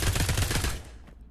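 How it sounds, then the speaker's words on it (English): A rapid burst of MP5 submachine gun fire in the video game Pavlov, close and loud, shots rattling for under a second before fading into a short echoing tail. "next weapon we have a MP5"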